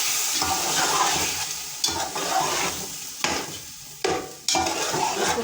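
Chicken pulao masala with green chillies and dry spices frying in a pot, a continuous sizzle broken by several sharp scraping stirs of a spoon, close and without talk.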